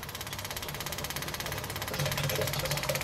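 A 6 kW fuel separator runs steadily, giving a close, continuous mechanical hum with a fast regular pulsing throb that grows slightly louder toward the end.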